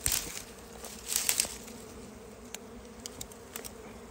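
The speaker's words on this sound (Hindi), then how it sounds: "ये देखो ये मक्खियाँ उड़ रही हैं पूरा" A swarm of honey bees buzzes around a hive in a village jungle, a steady close drone with occasional louder passes of individual bees near the microphone.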